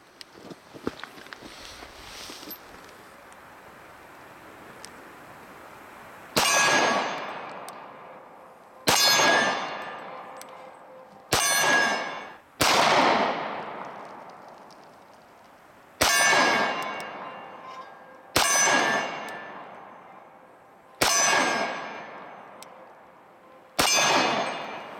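Dan Wesson Vigil Commander 1911 pistol firing at steel targets: eight sharp, loud shots at irregular intervals, each followed by a bright metallic ring that fades over a second or two, with quiet handling sounds before the first shot.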